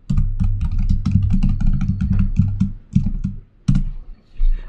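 A computer keyboard clatters as a git config command is typed at a prompt, rapid close keystrokes in quick runs with brief pauses and a few louder final taps, heard alone without speech.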